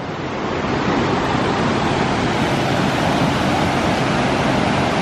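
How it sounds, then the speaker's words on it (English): A stream flows below a waterfall at Triple Falls in North Carolina, a steady, dense rush of water that stays loud and unbroken throughout, with no voices. "So Katniss will come out of the water and she comes running up this stream"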